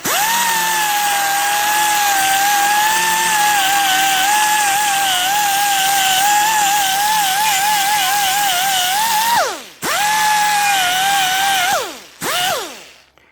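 A handheld power tool run at low speed to clean the intake manifold gasket surface on a Chevy 6.5 diesel, giving a loud, close, steady whine that wavers under load, then two quick spin-downs and restarts.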